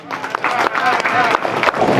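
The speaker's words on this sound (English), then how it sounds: "Let's give him a round of applause." Audience at a bowling handicap final shootout at AMF Garden City bowling alley clapping and cheering, a dense burst of applause mixed with voices and shouts from a nearby crowd.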